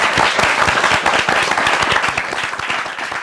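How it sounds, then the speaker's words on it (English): A studio audience at a business pitch show claps loudly, with dense, rapid applause lasting steadily throughout. "So awesome to have an in-studio audience with the clapping"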